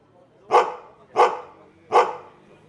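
A dog barks three times, evenly spaced about two-thirds of a second apart, each bark loud, close and sharp against an otherwise quiet background.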